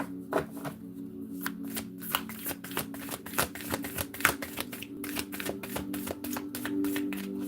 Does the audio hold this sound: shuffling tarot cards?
yes